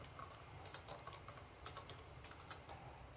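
Crisp keystrokes on a computer keyboard while a description is entered for a YouTube playlist, light irregular taps in short runs, close and clear with no voices.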